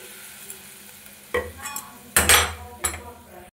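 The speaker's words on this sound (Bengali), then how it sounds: "সয়াবিন আলুটা খুব ভালো মতো ফুটে গেছে" Soybean and potato curry cooking in a pan after hot water is added: low simmering noise broken by three loud bursts of stirring and splashing, with no voices.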